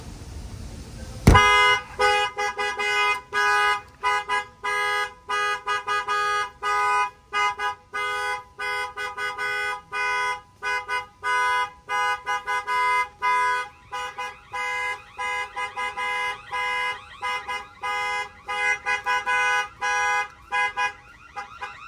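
A loud alarm on a Snap-on tool truck blares nearby, cycling through rapid repeating honks and tonal wails for the whole stretch, with no voices.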